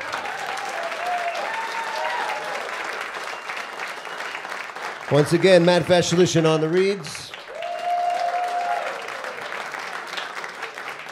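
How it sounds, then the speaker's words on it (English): An audience at a jazz concert applauding steadily throughout, with an announcer speaking over the clapping through a PA. "Please, once again, show your appreciation to Mr."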